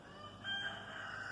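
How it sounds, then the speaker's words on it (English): Roosters crowing on a hot morning, a drawn-out crow rising at mid-clip over a steady, quiet background; the birds sound somewhat distant and no one speaks. "You're hearing the roosters crow."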